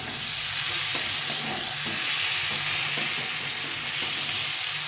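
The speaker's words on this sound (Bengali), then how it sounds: "সেইভাবে কষিয়ে নিলাম" Red potatoes sautéing in a hot pan, a continuous bright sizzle with occasional stirring scrapes, close and steady with no talking.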